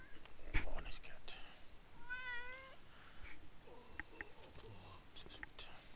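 A cat meows once in Metal Gear Solid: The Twin Snakes, a clear wavering cry in the middle, with a sharp click at the start, faint clicks around it, and a soft background hush.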